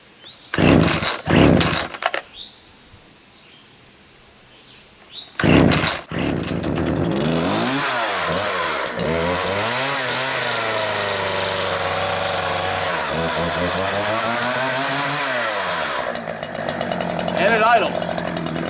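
A Homelite Ranger 33cc chainsaw, unused for three years, gives a few loud pulls and pops, then starts and settles into a steady, buzzing two-stroke idle with brief revs, close by.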